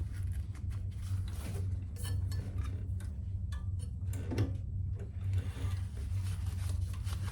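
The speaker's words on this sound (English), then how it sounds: "I am going to flip those and we will sew those together" Sewing machine stitching leather straps together, a steady low mechanical hum with rapid ticking of the needle, close and fairly quiet throughout.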